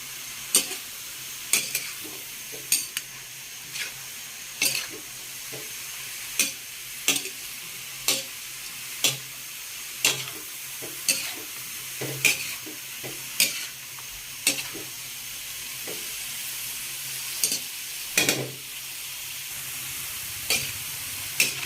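Sautéed bean sprouts with ham and tofu are stirred in a pan, a spatula striking the metal in sharp, evenly spaced clacks about once a second over a steady soft sizzle.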